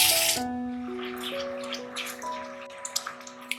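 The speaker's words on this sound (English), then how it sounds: "now I'm going to add the hot water as per my requirement" Hot water poured into spices frying in oil for a Bengali fish curry (macher jhol): a steady, hissing, splashing pour that fades into light dripping and bubbling.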